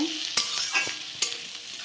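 Spice paste frying in a pan for a vegetarian banana-flower ghonto, a continuous close sizzle broken by a few sharp scrapes of a spatula.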